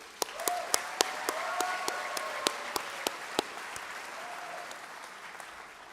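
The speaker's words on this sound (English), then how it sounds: "Let's give one more round of applause for Mrs. Geis, please." A graduation ceremony crowd applauds with scattered sharp claps standing out, loud at first and then tapering off, with brief voices underneath.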